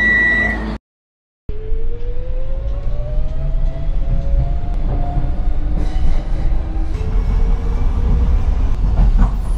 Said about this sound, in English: This tram terminates at Bathampton.